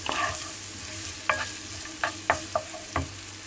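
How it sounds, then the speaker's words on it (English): Onion sautéing in a pan over medium-low heat, a soft continuous sizzle broken by several sharp spatula scrapes and taps close up. "we will saute the onion"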